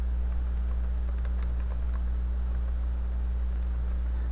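Fingers tap on a computer keyboard in quick, uneven bursts of light clicks, close and fairly faint over a constant low electrical hum.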